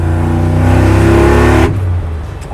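A 1986 Chevrolet Silverado pickup with an LT4 V8 and large wheels and tires accelerates hard with a loud, deep rising engine roar, then the revs drop sharply as it lets off.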